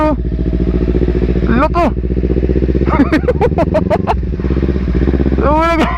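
Motorcycle engine idling nearby after being left running, a steady close low rumble throughout, with excited voices talking and shouting over it.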